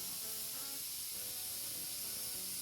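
A pressure cooker cooking spinach khichdi on a low flame lets off steam in a continuous loud, steady hiss that fills the whole moment with no break.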